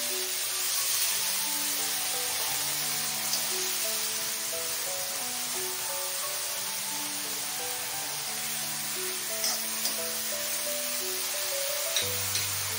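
Eggplant and fenugreek leaves sauté in a pan, a steady soft sizzle and hiss with faint light clicks, no voices.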